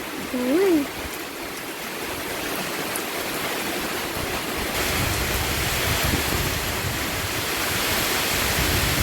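Stormy weather with rain and wind rushing in a steady broadband roar that swells slightly louder partway through, accompanied by a brief vocal sound near the start.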